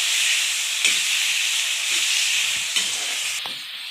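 Fennel seeds sautéing in a pan for a fennel-seed chutney give a steady close sizzle and hiss, with a few soft stirring scrapes breaking through at intervals.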